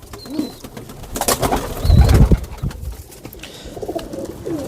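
Teddy pigeons of an old bloodline coo in soft, repeated low phrases nearby, mixed with rustling, thumps and a brief louder burst of movement in the loft.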